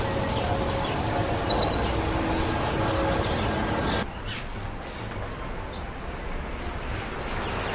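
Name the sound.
pin-tailed whydah chirping and whistling song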